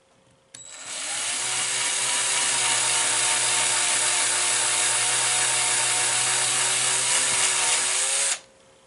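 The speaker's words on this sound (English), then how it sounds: "I'm just going to drill a new hole here" A power drill bores holes into the wooden cabinet of a pinball machine under repair, one loud, steady whine held for about eight seconds at close range before cutting off abruptly.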